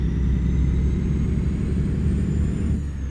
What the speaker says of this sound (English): This engine's pulling just great.